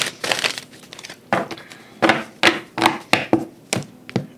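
Tarot cards shuffled by hand in a traditional shuffle, a run of crisp riffling and slapping bursts, close and fairly loud, coming in uneven clusters with short pauses between, no voices.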